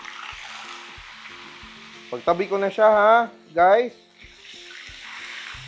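Milkfish sizzles and crackles steadily in a pan of hot oil throughout, with a person speaking briefly over the frying.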